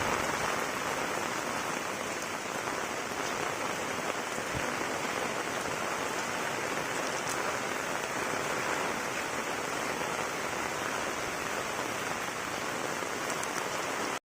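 Morning rain falls steadily over a village, a dense, even hiss of drops on surfaces that continues unbroken for the whole stretch, with no voices.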